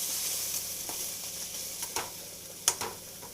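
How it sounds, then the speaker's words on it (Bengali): A thick mixture cooks down in oil as it is stirred until dry, giving a continuous soft sizzle broken by scattered spoon scrapes and one sharper clink near the end. "যতক্ষণ না পর্যন্ত এর সব জল শুকিয়ে যাচ্ছে বা তেল ছাড়ছে, ততক্ষণ পর্যন্ত আমি এটা এইভাবে রান্না করতে থাকবো"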